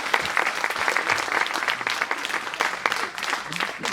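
An audience at a live stage show applauds children who have been called onstage, steady crowd clapping with sharp individual claps standing out and faint voices mixed in.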